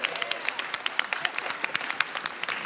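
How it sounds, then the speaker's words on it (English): A crowd applauding steadily, many hands clapping in a dense, even patter that holds throughout. "This is also our official applause for President Biden for the American Rescue Plan Act funding."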